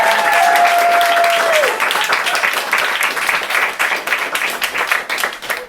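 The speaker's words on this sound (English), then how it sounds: "Can we please give her a round of applause?" Audience applause for a first-time performer at an open-mic night, a full, dense burst of clapping from a room of people that thins into scattered claps, with a brief voice at the start.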